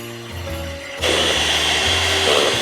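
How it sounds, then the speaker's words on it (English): A handheld electric mixer whips a stick of butter, its motor humming, then jumping to a louder, harsher whir as the beaters dig in, sustained and close. "Whip 1 stick of butter until very soft and put the mixer in."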